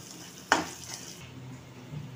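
A single scrape of a spoon through ingredients in a kadai, made while cooking egg bhurji, cuts in sharply near the start over a low sizzle and then fades into a quiet background.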